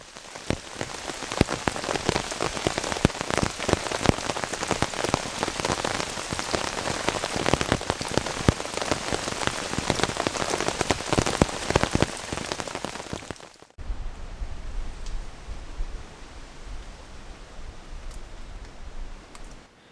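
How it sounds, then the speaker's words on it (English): Steady rain patters densely on a taut tarp, loud and close, then briefly cuts out before lighter, duller rain drumming continues. "It is raining, not too heavy at the moment though."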